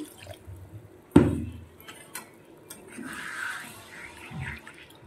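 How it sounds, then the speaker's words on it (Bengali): Water is poured into a pan of doi potol curry, one sharp splash followed by a quieter trickling and clinking of the pan in a home kitchen. "এখন আমি পরিমাণ মতো জল দিয়ে দেবো"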